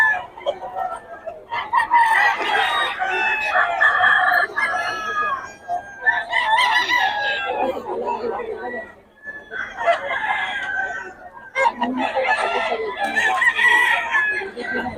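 Several roosters, apparently fighting-cock stags at a farm in Bocaue, crow loudly in repeated long calls with short gaps between them, along with clucking and background murmurs.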